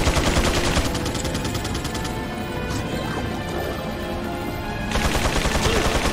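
Rapid gunfire in the survival horror game Resident Evil 4, a loud close barrage of repeated shots and impacts that continues through the whole stretch, dipping slightly in the middle before surging again.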